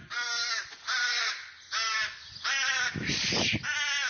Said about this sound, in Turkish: Yavru karga binanın girişinde durdu.